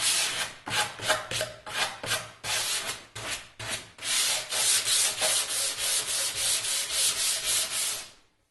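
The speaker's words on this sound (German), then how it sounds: "Hier die Kanten sind auch gebrochen, auch schön mit dem Schleifpapier entlang hin." Sandpaper is rubbed by hand along the edges of a wooden cajon, close and steady, with rhythmic back-and-forth strokes, choppy at first and then settling into an even, regular scraping pace.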